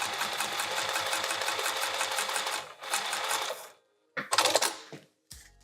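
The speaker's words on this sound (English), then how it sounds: "I'm going to sew this edge down." A sewing machine stitches down the edge of a small fabric key chain pouch, running in a steady rapid rattle for several seconds, pausing, then starting again in a few shorter bursts with clicks between.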